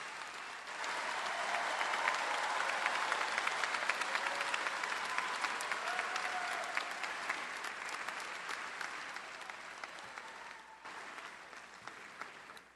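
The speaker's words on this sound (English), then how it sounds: "Would you please join me in a round of applause for these new doctoral graduates?" A large commencement audience at LSU applauds new doctoral graduates, steady dense clapping that builds quickly, holds for about ten seconds, then thins out and tapers off.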